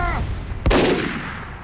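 A single sharp gunshot in a zombie video game cracks out midway, loud and close, with a reverberant tail trailing off; a voice is heard briefly before it.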